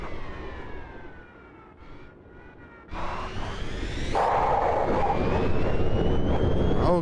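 Formula E electric race car pulling away under acceleration, a rising electric whine that climbs in pitch and grows louder, with a brief dip before surging strongly and holding steady near the end.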